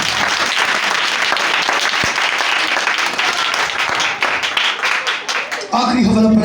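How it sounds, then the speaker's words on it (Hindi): A church congregation claps loudly and together in a sustained burst of applause that fades toward the end, where a voice begins speaking. "जोरदार क्लैपिंग करेंगे जिनको समझ आ रही है।"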